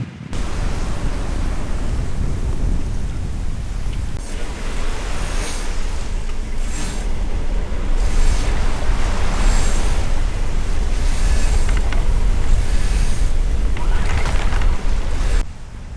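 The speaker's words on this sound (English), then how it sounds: "The waves are getting bigger, the wind stronger." Loud, continuous roar of ocean waves and gusting gale wind buffeting the microphone at sea on a sailing boat, with surges of surf rising and falling throughout.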